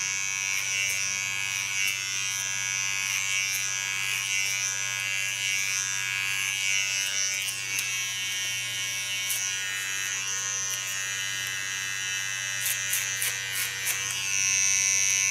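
An electric hair clipper buzzes steadily and close up while cutting a short asymmetric pixie haircut, with a constant hum and small shifts in pitch as the blades move through the hair.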